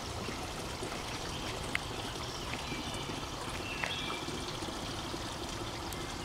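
Mountain spring water flows steadily on a farm, a continuous broadband rush and trickle with no talking, fairly close and even in level throughout.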